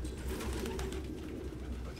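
Steady low cooing of several pigeons filling a filthy apartment in the Detroit: Become Human video game, continuous and fairly close over a dense ambient hum, no voices.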